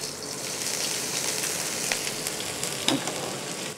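Onion frying in oil with cinnamon, cloves, cardamom and stone flower, a soft, even crackling sizzle up close with a faint tap near the end and no one speaking.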